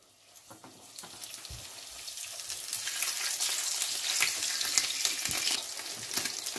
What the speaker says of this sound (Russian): Добавляю еще немного вина в ризотто и обжариваю нашу дораду.